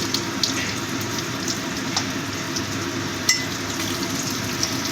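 Potato pieces fry in oil in a pan while cauliflower-potato curry is cooked, a steady close sizzle with occasional small pops and scraping clicks, no talk.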